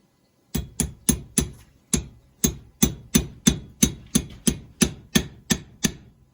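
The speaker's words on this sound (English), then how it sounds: "Tap it in lightly because you don't want to flatten the end of the pin." Small hammer lightly tapping a pin into a brass row counter extension for a Chambord AccuKnitter knitting machine, about sixteen crisp close metallic taps in a steady, slightly uneven rhythm with silence between them.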